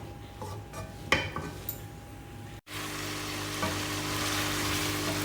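Mutton pieces fry and get stirred in oil over a medium-high flame for a kachnar gosht curry, with a continuous sizzle and scattered metallic scrapes and clinks of the spoon against the pot.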